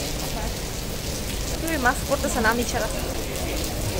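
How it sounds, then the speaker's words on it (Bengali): Rain falls steadily in an outdoor city setting near the Twin Towers in Kuala Lumpur, a continuous hiss running under a person talking briefly in the middle. "আবার বৃষ্টি শুরু হয়ে গেছে"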